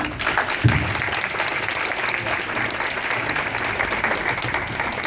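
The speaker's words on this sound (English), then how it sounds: "everybody give her another round of applause" Sustained applause from an audience after a young woman's speech, steady and fairly loud throughout with no break in the clapping.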